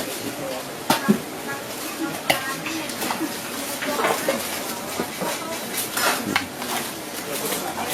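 Food being stir-fried in a pan at a Lao food stall, a steady sizzle with scattered metallic clanks of utensil on pan, under nearby talk and market background noise.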